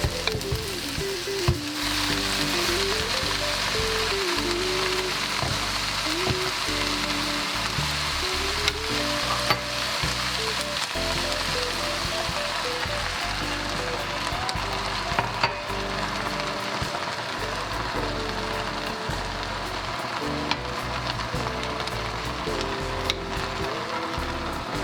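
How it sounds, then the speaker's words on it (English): Red cabbage and apples sauté in a pot with a steady, close sizzle and crackle, punctuated by scattered clicks and scrapes of stirring, while a faint musical tone hums underneath. "So I'm sauteing this for a little bit too."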